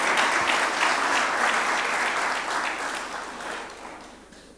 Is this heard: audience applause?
yes